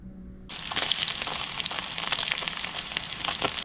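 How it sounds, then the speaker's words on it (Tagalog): Freshly caught fish fries in hot oil, a loud close sizzle that bursts in abruptly and crackles on continuously with small pops. "Prituhin lang po natin at tayo po ay kakain na po."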